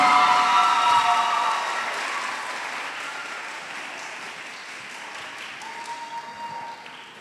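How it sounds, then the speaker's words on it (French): An audience applauds a speaker being welcomed to the stage at an academy talk, the clapping loud at first and then thinning and fading gradually over several seconds. "je vous demande d'accueillir notre chaleureuse, éloquente Christella Laguerre sous vos applaudissements"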